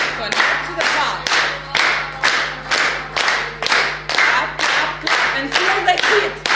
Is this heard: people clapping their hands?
yes